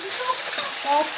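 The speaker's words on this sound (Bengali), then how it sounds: "আর এদিকে রুলি মাছ ভাজা চলছে" Rui fish frying in a pan during a home cooking session, with a steady sizzle and faint stirring running evenly through a short stretch, close and moderately loud.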